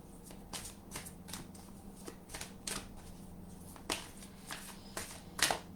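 Tarot cards being shuffled for a reading give a string of crisp, close riffling and slapping bursts at an uneven pace, with a faint hum underneath and no speech.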